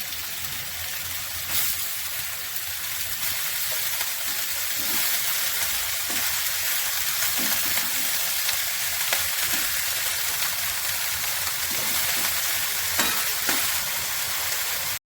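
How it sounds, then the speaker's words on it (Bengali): Chopped cabbage sizzles steadily in a pan of hot fried spices, a dense continuous hiss with faint stirring clicks scattered through, close and alone with no voices. "মশলা কষানো হয়ে গেছে, বাঁধাকপিগুলো দিয়ে দেবো।"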